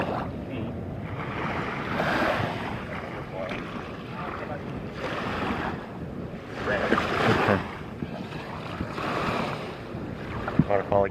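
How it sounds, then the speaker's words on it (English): A waterfall in the Venezuelan jungle near the Canaima plateau, with brown, iron-rich water, gives off a steady broadband roar, buffeted by wind gusts against the microphone, with faint voices underneath. "Waterfall again."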